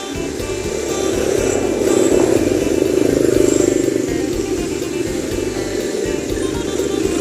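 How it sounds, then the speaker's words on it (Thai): A motorcycle engine revving nearby, a loud, sustained droning roar that swells slightly in the middle and stays steady to the end. "เบิ้งรถ"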